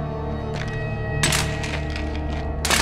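Weapons dropped onto the ground in Uncharted 2: Among Thieves, several separate heavy clattering thuds spaced apart over a low, steady background rumble, with no speech.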